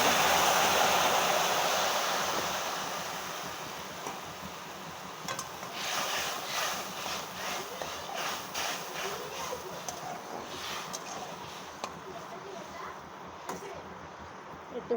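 Prawn sour curry boiling in a pot, a steady low bubbling and hissing simmer that stays fairly faint and continuous throughout.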